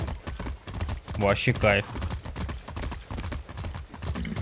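Rhythmic clip-clop of horse hooves at a brisk gallop in the video game Far Cry 6 runs throughout, while a person speaks briefly over it.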